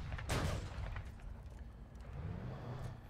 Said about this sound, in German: Und er steht auch noch dankenswerterweise so quer, dass wir ihn weiter beschießen können.